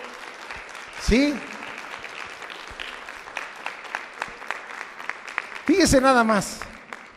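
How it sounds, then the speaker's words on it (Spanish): A church congregation applauds in praise, steady clapping running throughout beneath a preacher's loud speech and shouts. "Denle un aplauso a Él es grande"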